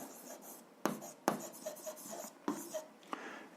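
Pen or marker writing out algebra on a board or paper during a seventh-grade lesson on absolute value, a quiet run of scratchy strokes with a few sharper taps and pauses between them.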